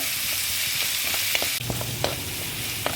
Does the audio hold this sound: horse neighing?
no